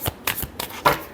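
Tarot cards are shuffled by hand in four quick riffling bursts, close and crisp, with brief pauses between each flurry.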